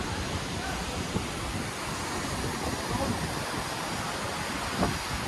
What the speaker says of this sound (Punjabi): ਠੰਡੀ ਠੰਡੀ ਹਵਾ ਚੱਲੀ ਜਾਂਦੀ ਆ